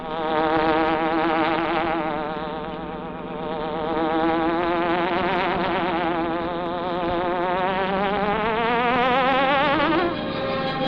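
Hornet buzzing sound effect from the Green Hornet radio drama: a loud, continuous, wavering insect-like drone that swells and dips in pitch throughout, with no voices over it.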